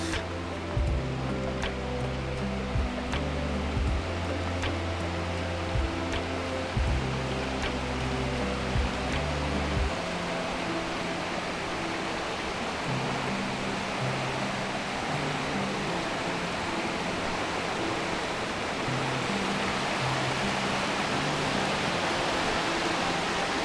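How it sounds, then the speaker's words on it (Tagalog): Steady, broadband rush of the Hatea River stream and Whangarei Falls flowing nearby in New Zealand, swollen by rain, loud and constant throughout, with a low rumbling hum in the first half. "Oh, the stream."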